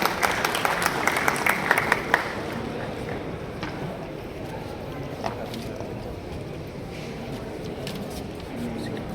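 An audience at a jewellery show applauds as the brand ambassador is called to the dais, a loud rush of clapping that softens after about two seconds into a lower, steady crowd murmur.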